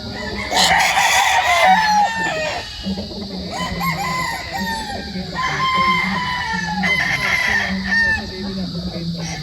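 Gamefowl roosters at a gamefowl farm crowing loudly and close by, several long cock-a-doodle-doo calls overlapping with clucking from other birds throughout.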